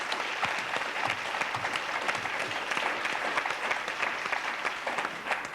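A studio audience at a French TV game show applauds after a close game, with dense, even clapping filling the whole stretch at a steady level, a faint voice barely present.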